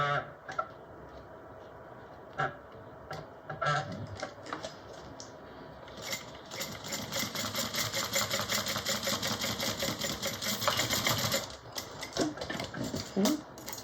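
A sewing machine stitches a Lettie Mini Bowler Bag without back stitching, running in short bursts at first and then in one long, loud continuous run before stopping, with a few scattered handling noises after.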